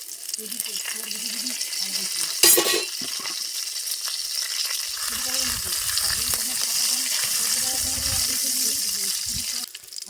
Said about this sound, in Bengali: এখানে আমি ফোড়নের জন্য দুটো তেজপাতা যেটা কাঁচা লঙ্কা এলাচ পেতে করে রেখেছি দুটো পাট পাঁচ ফোড়ন সব নিয়ে নিয়েছি ফোড়নে দিয়ে দিচ্ছি